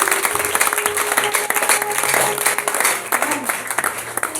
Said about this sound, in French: Est-ce qu'on peut acclamer pour cette personne?